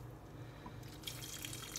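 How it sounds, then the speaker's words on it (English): Broth pours into a crock pot in a soft, faint continuous trickle, a quiet liquid splashing that thickens slightly toward the end. "I've made 4 more cups of broth. I don't know if I'm going to need it all, but I'm going to pour in"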